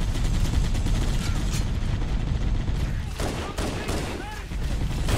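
Sustained weapon fire from plasma guns in Halo: Combat Evolved Anniversary, dense and continuous across the whole stretch, with mechanical clatter and sharp energy zips toward the end.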